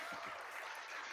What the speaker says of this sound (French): Voilà, oui, applaudissez-le.